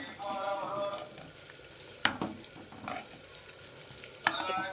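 Chopped onion fries in a pan for a matki rice dish, a steady close sizzle broken by a few sharp clinks of a spoon stirring against the pan, with no talk.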